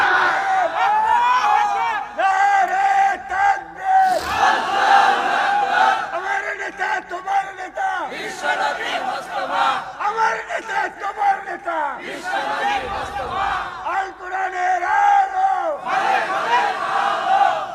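A large crowd shouts the Nara-e-Takbir slogan in loud, repeated chant bursts that rise and break off in waves, with an amplified voice leading between them.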